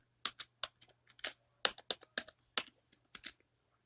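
Fingers tap out a short burst of typing on a computer keyboard, with crisp close clicks in quick uneven runs and brief pauses between them, heard quietly and without speech.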